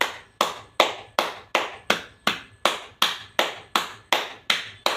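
Sharp, loud hand claps done as an exercise, about a dozen evenly spaced in a steady rhythm of roughly two per second, each ringing briefly, with no speech.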